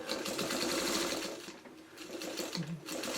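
A sewing machine stitching down a quilted pot holder whirs in quick bursts, close and fairly quiet, with a brief pause midway before the motor picks up again.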